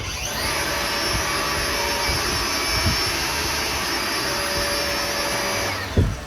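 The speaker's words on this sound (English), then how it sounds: "this blower is going to start. Inside here, it has a fan, and it's going to put air out the end" A DeWalt cordless leaf blower runs at a steady, loud, close whine with a rush of blowing air that holds nearly constant for about six seconds, ending with a brief thump.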